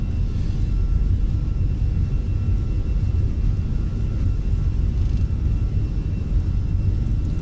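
Steady, heavy engine roar and rumble of a heavy Airbus A320 on its takeoff roll in a flight simulator, continuous and even in level throughout, with no talking.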